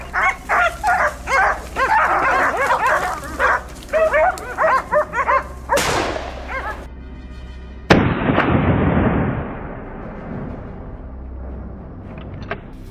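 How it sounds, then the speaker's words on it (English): Hunting dogs bark in rapid, repeated bursts through a forest during a wild boar hunt, loud and close, followed by two sharp gunshot-like blasts that ring out and decay. "The barking of the hunting dogs led me to another thick bush."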